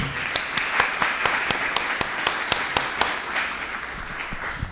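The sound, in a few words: applause from an audience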